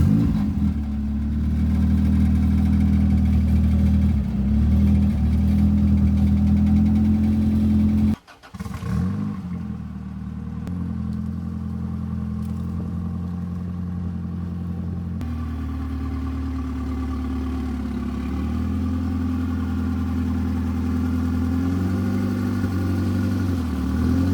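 An old truck engine idles loudly and steadily, cuts out with a brief burst of cranking, then catches again and keeps running at a constant idle close by.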